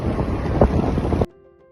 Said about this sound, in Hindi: स्कूटी पे हवा तेज लग रही है,